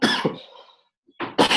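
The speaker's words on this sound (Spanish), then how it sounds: "me van a escuchar toser un poco porque ando un poquito mal de la garganta" A person with a sore throat coughs several times in close, loud bursts, with a short silent gap between the first coughs and the last pair.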